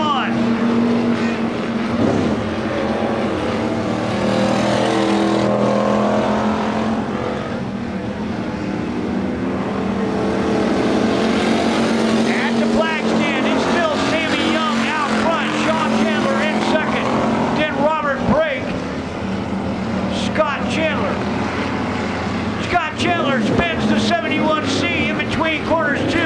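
Pure stock race cars roaring around the dirt track at Oklahoma Sports Park, sustained engine drone rising and falling as cars pass, with an announcer commentating over it.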